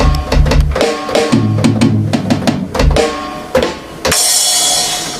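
Loud music with punchy beats and bass plays through Tannoy near-field studio monitors, ending in a bright, noisy wash, with no voices.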